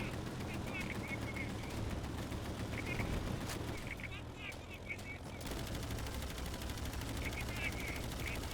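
Rapid bursts of 20mm aircraft cannon fire from a ground attack plane during a dogfight in the World War II video game Easy Red 2, with steady engine drone and a voice speaking over it.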